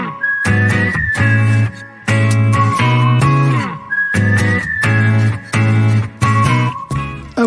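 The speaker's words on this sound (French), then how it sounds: "j'aime beaucoup les sifflets au départ" Music opens with a loud, clear melodic whistle carried over plucked, rhythmic instrumental chords, the whistled line returning in phrases throughout.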